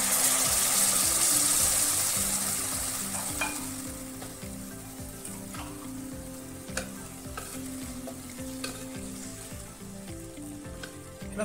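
Water poured into a hot pan of paneer chilli, a loud burst of sizzling and hissing that settles into steady frying with occasional stirring clinks and scrapes, no talking.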